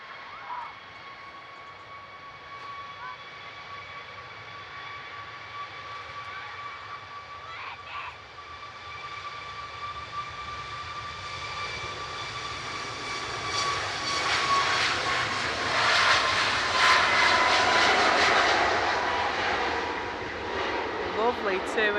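TUI airliner at Manchester Airport, its engine whine rising steadily into a broad, building roar that peaks and then eases slightly, with a tonal hum throughout and people talking quietly over it.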